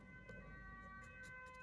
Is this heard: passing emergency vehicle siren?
yes